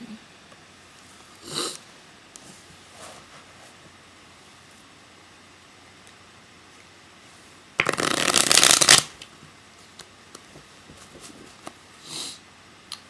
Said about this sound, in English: See all the shuffling.